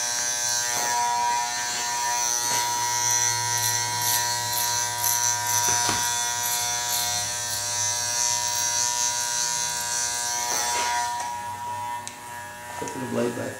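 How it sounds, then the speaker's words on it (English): A Master electric hair clipper buzzes steadily and close for the whole stretch, a constant motor drone with a few brief clicks and handling knocks, while a person talks over it. "Get in this master clipper with the, I think it's got 8 different blade guards in it."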